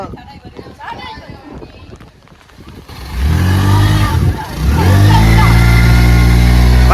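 A vehicle pushes through deep floodwater in Thoothukudi, its engine revving up loudly into a sustained roar after quieter splashing, with people talking over it.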